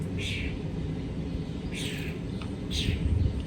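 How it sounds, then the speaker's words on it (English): An unfamiliar bird calls three times, short bright chirps spaced about a second apart, moderately near over a steady low rumble of background noise. "What kind of bird is that? I don't think I've ever heard that sound before."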